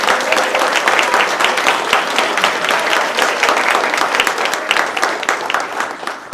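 An audience applauds at a teachers' panel discussion, a dense and steady round of clapping from many hands that holds at a loud, even level throughout.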